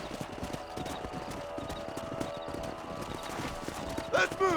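Horses' hooves clip-clopping in the 2010 video game Red Dead Redemption, a steady run of hoofbeats under game ambience, with a brief whinny-like sound near the end.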